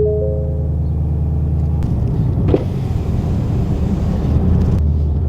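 A 2017 Ford Mustang GT being rebuilt after a wreck fires up: a steady low rumble, then a brief starter-like burst and a deep, loud engine note close by.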